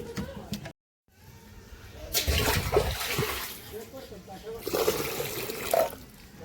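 Water runs from a tap into a bucket in Longwa, Nagaland, a rushing, splashing stream that starts, swells and continues steadily, with a voice speaking over it.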